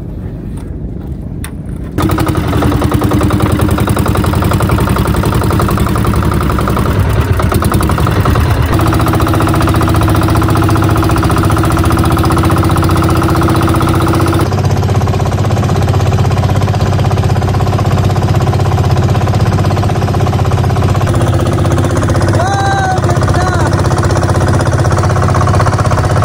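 After a short quiet moment, a small boat engine starts and settles into a loud, steady, rattling drone that continues without a break.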